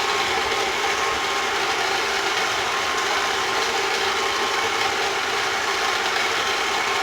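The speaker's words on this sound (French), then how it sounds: "je vais laisser pétrir la pâte environ 5 bonnes minutes à vitesse assez forte" A stand mixer kneading msemen dough at fairly high speed: a constant, loud mechanical whir and hum that holds steady for the whole stretch, with no voices.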